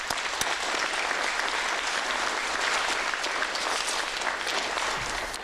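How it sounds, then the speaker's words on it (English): A crowd at a Lynchburg Fire Department recruit academy graduation applauds, giving dense, steady clapping that fills the room for several seconds before it begins to taper. "Let's give them a round of applause."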